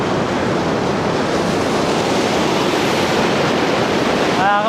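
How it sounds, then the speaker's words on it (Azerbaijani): The Mucuq waterfall rushes and sprays water in a dense, loud, unbroken roar that fills the whole clip, close to the listener, with no talk heard. "Burada su o qədər dağılır ki, şəlalənin axmasından."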